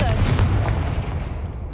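Confringo fire spell in Hogwarts Legacy bursts with a heavy, close boom that rolls off into a fading rumble within about a second and a half.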